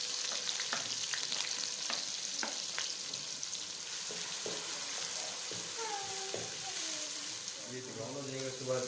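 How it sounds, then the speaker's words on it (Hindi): Chopped onions browning in oil in a frying pan for a mixed vegetable dish, giving a steady close sizzle with scraping stir strokes and a few clinks, and a voice talking over the cooking. "प्याज़ों को हम अच्छी तरह ब्राउन कर लेते हैं"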